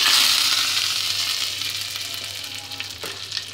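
Hot ghee sizzling steadily in a pan, a close, bright frying hiss that fades slightly over a few seconds, with a faint stir near the end.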